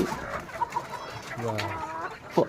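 Chickens and roosters cluck in short, scattered calls at close range inside a large Sonali poultry farm in Lakshmipur, with faint voices and farmyard noise in the background.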